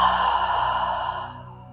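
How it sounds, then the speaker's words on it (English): Long deep exhalation during a yoga flow, a soft breathy sigh close to the listener that slowly fades over nearly two seconds, with no talking. "Deep breaths."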